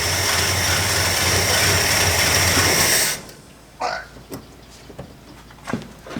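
A car engine runs with its ignition timing set too far advanced, giving a loud, close, steady running drone for about three seconds before it cuts out, leaving a few scattered knocks and clicks.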